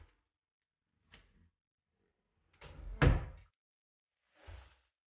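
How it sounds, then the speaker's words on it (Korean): A touch-operated drawer on a built-in bathroom vanity in a newly built apartment is pushed and slides open. Several soft bumps and thunks are followed by a louder knock and a brief sliding rub, spaced out against silence. "서랍은 터치식으로 열리게 되어 있습니다."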